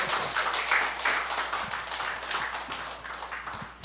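Applause from a church gathering in Namwon welcomes the pastor of Saemsaengmyeong Church at a regional evangelism camp meeting, a steady patter of many hands lasting several seconds with no talking over it.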